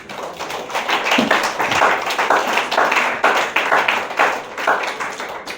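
Congregation clapping during a Sunday church service in Treichville, many hands applauding with a lively irregular rhythm, loud and close, with scattered voices cheering underneath.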